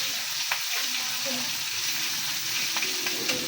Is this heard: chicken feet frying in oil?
yes